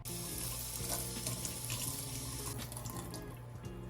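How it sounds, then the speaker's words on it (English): Water pours steadily onto a sponge to soak it, a continuous close splashing rush like a running faucet that holds for the whole stretch with no voices. "One of these sponges, and I'm going to saturate it with water."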